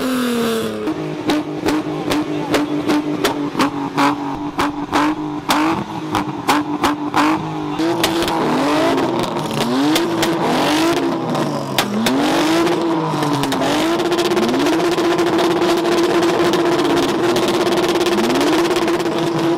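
BMW E36 engine with a loud exhaust running at a car event, idling with popping and crackle before a series of rising and falling revs, close and loud, with no talk over it.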